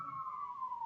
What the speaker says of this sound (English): that was an ambulance, and that's a cop car